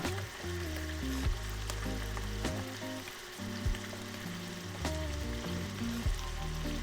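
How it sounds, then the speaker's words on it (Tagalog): Mushroom sauce sautés in a pan for a chicken dish, giving a soft, steady sizzle that lasts throughout. It plays faintly beneath tonal background music, with no one talking. "Gigisahin ko lang yung siguro mga around 5 minutes na gisa."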